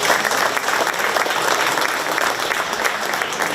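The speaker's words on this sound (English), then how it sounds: "Let's give these exhibitors a round out of applause." Audience applause for 4-H and FFA exhibitors after a market beef cattle class at a county fair show ring, a loud, steady wash of clapping throughout.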